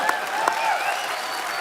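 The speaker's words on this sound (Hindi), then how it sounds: "जोरदार तालियां।" Studio audience on a Hindi comedy talk show bursts into steady, dense applause, a continuous wash of clapping with a couple of sharper claps near the start, loud and close throughout.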